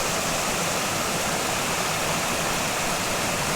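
A village river flows over stones in a loud, steady rushing roar, close and unbroken throughout, with no voices.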